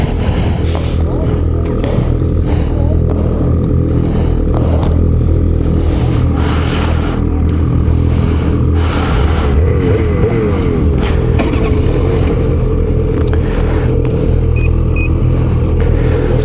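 A 2021 Ski-Doo XRS snowmobile with a 600R E-TEC engine revs and drones steadily while riding, a loud, close, continuous engine rumble with some scraping over snow.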